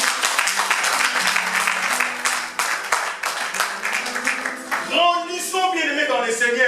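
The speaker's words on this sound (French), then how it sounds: "Est-ce qu'on peut acclamer pour la parole?" A church congregation claps and cheers after a sermon. Dense applause rises under a preacher's voice, then fades as a sustained tone and other voices take over near the end.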